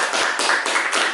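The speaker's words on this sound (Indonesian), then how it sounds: "Tepuk tangan dulu dari kita semua." A small group of people clapping hands together at the close of an Indonesian podcast, loud close rhythmic claps in quick bursts with no talking.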